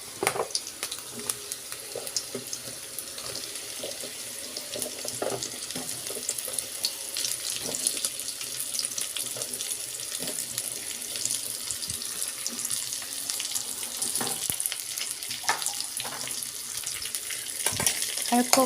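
Pumpkin and potato cubes hit a pan of fried onions for an Assamese dish, giving a steady, faint sizzle with scattered small crackles throughout.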